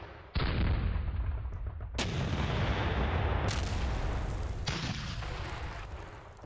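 Artillery guns firing in the strategy wargame Panzer Battles North Africa 1941, several loud booming shots in quick succession, each cutting in sharply and rumbling on, filling the whole clip.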